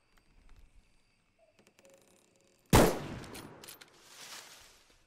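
A single sharp, loud gunshot in the video game Bigfoot bursts out after a quiet stretch of faint clicks and ticks, followed by a decaying rumble and a second softer swell.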